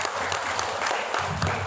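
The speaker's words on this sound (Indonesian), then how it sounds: "Ya, kasih aplaus Bapak Ibu." Audience applause in a room at a book discussion event, a steady wash of clapping hands sustained throughout, fairly loud and close, with no talk over it.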